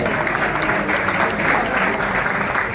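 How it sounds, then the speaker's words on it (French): Audience at an evening celebration applauding themselves, a dense, steady wash of clapping held at even loudness throughout with no pauses. "Est-ce que vous pouvez applaudir pour vous-même, s'il vous plaît?"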